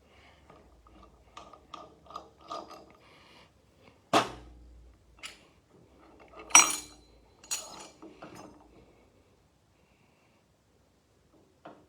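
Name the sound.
metal engine parts being removed from the crankshaft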